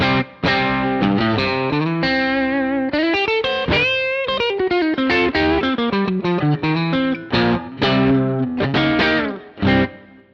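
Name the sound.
electric guitar through overdrive pedal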